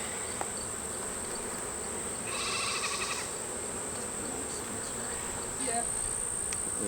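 Honey bees buzzing around an open beehive in late summer, a steady outdoor hum of many insects with a brief louder buzz passing close, and faint rustling in the background.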